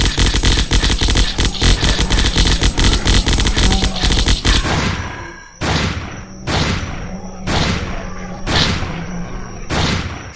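Assault rifle fire in the zombie shooter Zombocalypse: a loud, continuous automatic burst for several seconds, then shorter separate volleys with brief pauses between them.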